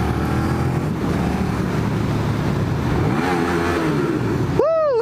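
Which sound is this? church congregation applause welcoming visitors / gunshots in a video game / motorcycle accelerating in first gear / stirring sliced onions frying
motorcycle accelerating in first gear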